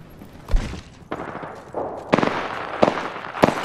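Gunfire in the video game Apex Legends comes as several sharp, loud bursts at irregular intervals, some single cracks and some short clusters of shots, over a low background.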